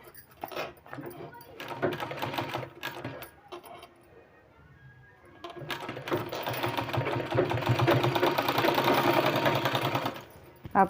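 A sewing machine stitches a lace design onto a sleeve in bursts of fast, close needle chatter, pausing briefly before a long steady run, with faint knocks and handling noises between.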